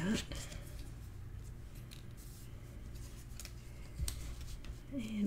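Scissors snip paper for a tag album in a few quiet, close cuts, with a faint voice in the background.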